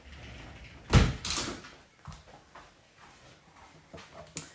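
A door indoors is opened to let a cat in: one fairly sharp knock and swing near the start, then soft shuffling noises in a quiet room.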